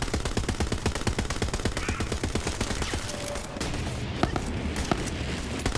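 Rapid full-auto weapon fire in Borderlands 3, a steady stream of loud evenly spaced shots for several seconds, then scattered blasts and heavy combat noise, with little talk over it.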